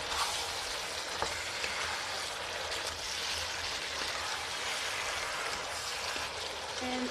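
Baby squid stir-frying in a hot pan with cabbage and green chili, a steady, dense sizzle and crackle that holds close and even throughout with no talking.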